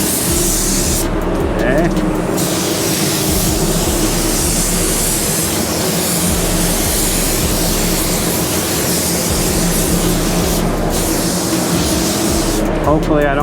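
Harbor Freight Black Widow spray gun laying down base coat, a loud continuous close hiss of air and paint spray running unbroken, with a brief spoken word over it.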